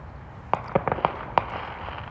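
Several sharp fireworks pops crackle in quick, irregular succession, moderately distant, over a quiet background hiss.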